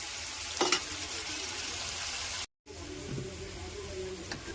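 Ginger, garlic and mustard seeds frying in hot oil for a chicken liver fry, giving a steady broadband sizzle with a brief stir near the start, a momentary cutout midway, then continued sizzling.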